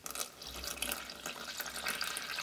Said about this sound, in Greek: Θα ρίξουμε μέσα λίγο νερό.